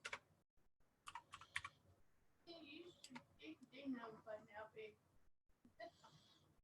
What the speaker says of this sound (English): I know my keyboard is loud.